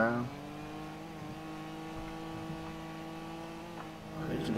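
A car engine with its check engine light on idles roughly with a steady low hum that sags and wavers as if about to stall, heard from inside the vehicle.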